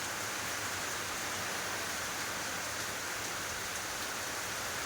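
Heavy monsoon rain pours down steadily, a dense, even hiss that stays constant throughout with no voices.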